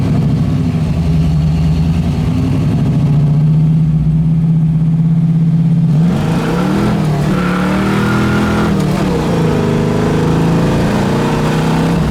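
A 1973 Ford Mustang Mach 1 engine drones steadily while driving; partway through the pitch drops with a shift into fifth gear to about 1500 RPM at 55 mph, then hums on with rising and falling tones.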